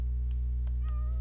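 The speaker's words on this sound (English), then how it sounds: "Look at the little kitty cat." A cat meows in a video game, a short soft mew over a loud, constant low drone of background game music.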